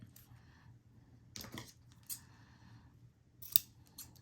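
Scissors snip through cord ends at an angle in a quiet room, a few soft crisp cuts with small handling clicks between them, faint and close.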